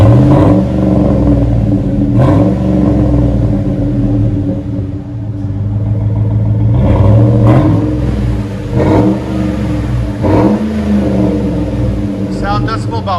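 A 2008 GMC Yukon XL with a 5.3L V8 and Flowmaster Super 10 exhaust revs loudly and close by in repeated deep throttle blips, a rumbling idle between them, while people talk over the engine.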